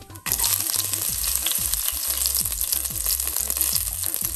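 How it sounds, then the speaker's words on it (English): Cumin seeds, fenugreek seeds, a dried red chili and a sliced green chili hitting hot cooking oil, bursting into a loud, crackling sizzle with rhythmic stirring or scraping underneath that continues steadily. "Add 1 teaspoon cumin seeds and 1/2 teaspoon fenugreek seeds. To this will go 1 dried red chili and 1 sliced green chili."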